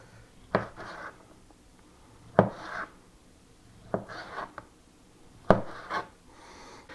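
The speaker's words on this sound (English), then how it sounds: "we're going to slice the pepperoni" A knife slices pepperoni on a cutting board for homemade pizza, four distinct, close chopping strokes, each a sharp tap followed by a brief scraping rub, spaced about a second and a half apart with quiet between.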